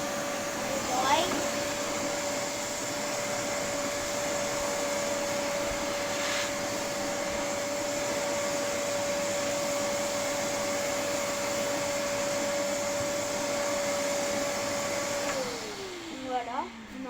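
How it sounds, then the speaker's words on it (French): A vacuum cleaner runs steadily for most of the time with a constant motor whine and airy hiss while dust is cleaned off cushions, then spins down near the end. "on a un petit peu passé un petit coup d'aspirateur"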